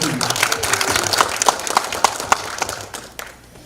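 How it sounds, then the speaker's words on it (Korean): An audience at a public forum claps to welcome a speaker, a burst of scattered hand claps with a few sharp close ones that thins out and fades toward the end. "여러분 누구 못지않게 뜨거운 박수로 황지환 학생을 모십니다"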